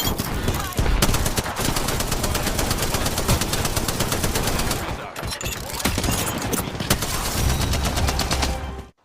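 Rapid sustained automatic gunfire in the Apex Legends video game, loud and close, in long continuous bursts with brief pauses between them, without talk.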